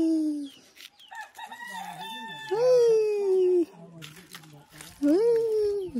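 Chickens clucking and calling close by in a rural village yard, a few loud drawn-out squawks rising over quieter clucks while people talk.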